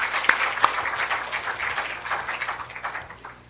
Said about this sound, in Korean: 자, 박수로 격려하십니다.